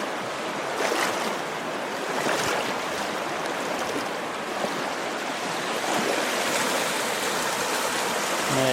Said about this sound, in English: Beautiful river, isn't it?